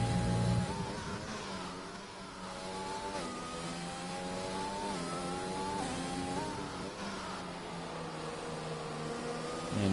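An F1 race car in the F1 2020 video game, at the Dutch GP, winds down through the gears under engine braking toward a chicane, its high engine whine dropping in pitch in steps, loud and continuous without talk.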